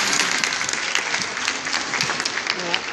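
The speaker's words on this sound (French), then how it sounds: "première fois qu'on applaudit" An audience claps in dense, continuous applause, loud and close throughout, with voices mixed into the crowd noise.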